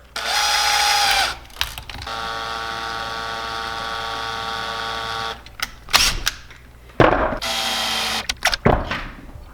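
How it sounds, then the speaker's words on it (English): A power drill twists wires whose ends are held by an Allen key clamped in a vise. It makes a loud, steady whirring run of several seconds between shorter bursts and clunks. "put an Allen key in your vise and twist these wires around each other with your drill"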